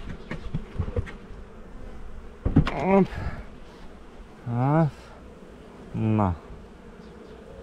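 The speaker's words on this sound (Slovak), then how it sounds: "Všetky včely, ktoré sú zlodejky, sa chcú dostať von z úľa." Robber honeybees pour out of a hive once its lid is opened, making a dense, steady buzzing close to the microphone. A few short bursts of speech cut in over the swarm.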